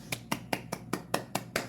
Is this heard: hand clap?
yes